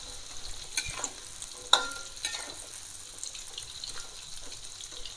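Jengkol beans frying for balado in a pan with plenty of water and spices, a steady bubbling sizzle broken by a few sharp clinks of a utensil against the pan.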